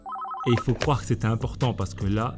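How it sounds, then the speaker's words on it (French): A mobile phone rings with a quick warbling, repeating electronic tone at the start, then someone speaks over the fading ring. "c'est mon téléphone qui sonne."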